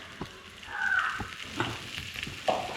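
Squid thoran with ground spice masala is stirred in a pan, a soft low sizzle broken by a few sharp scrapes and taps of the spoon against the pan, quiet and close.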